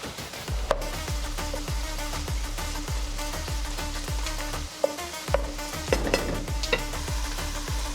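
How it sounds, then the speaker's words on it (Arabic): Marinated chicken and onions sizzling loudly in a pot, with a spoon scraping and stirring in a regular rhythm of strokes over a steady close frying hiss, no voices. "بنزل عليهم الدجاج المتبل وبحركهم حتى ياخدوا لون"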